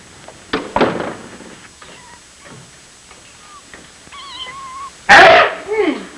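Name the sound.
kittens meowing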